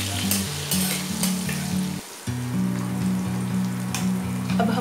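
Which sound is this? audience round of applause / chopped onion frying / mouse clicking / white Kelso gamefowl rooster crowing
chopped onion frying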